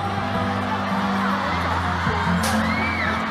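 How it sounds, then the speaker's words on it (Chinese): An audience at the Chengdu Poly music festival concert cheers and whoops continuously, forming a dense crowd roar with scattered shouts and a sharp burst partway through. "来，掌声！"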